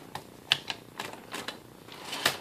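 Keys striking on a 1962 Brother Valiant manual typewriter, a handful of crisp irregular clacks with a sharper strike near the end, close and fairly quiet with no voices.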